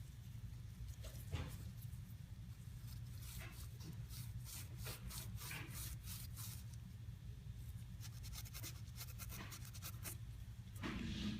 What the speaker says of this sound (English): Take our Scotch-Brite, clean off the faces a little bit.